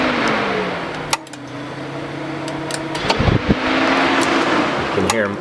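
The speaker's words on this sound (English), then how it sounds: "relays everywhere throughout here are all cycling. The fans cycling high to low." Cooling fans in a 2015-or-later Subaru WRX STI run in test mode, a steady whirring drone that shifts speed as relays click on and off in sharp bursts throughout.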